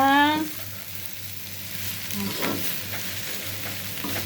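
Pre-boiled meat frying in a pan with tomato, onion and chili gives off a steady, moderate sizzle with light stirring, after a brief voice at the start.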